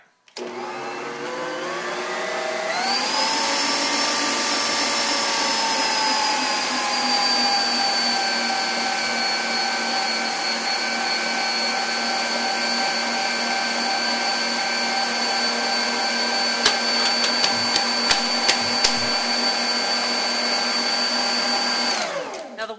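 A stand mixer with dough hooks kneads thick double chocolate peppermint cookie dough, its motor whining up to speed and holding a loud steady drone, with a few light clicks near the end before it winds down.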